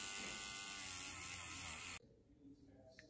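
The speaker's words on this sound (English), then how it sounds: "I'll give everything a little polish now with the wire wheel on the Dremel" A Dremel rotary tool with a wire wheel polishes a model truck, a high, steady buzzing whine for about two seconds that stops abruptly and leaves quiet handling noise.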